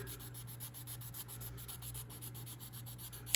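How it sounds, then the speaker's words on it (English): Steady, rhythmic rubbing strokes of a sanding stick smoothing an airbrushing piece, close up and quiet, repeating evenly with a faint low hum underneath. "I'm going to get my stick out, and I'm going to start sanding it again to finish making it smooth."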